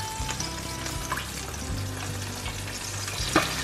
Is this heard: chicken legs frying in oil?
yes